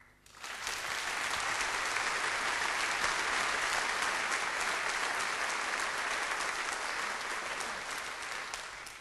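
Audience applause at a charity concert by an amateur Dixie band, a full steady clapping from a large crowd rising quickly and sustained loud for about eight seconds.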